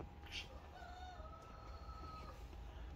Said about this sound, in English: Guys, you hear that big old rooster out there?